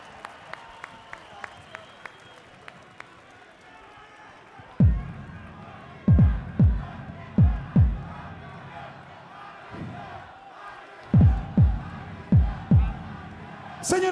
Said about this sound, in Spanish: un fuerte aplauso para esto, para Batallón.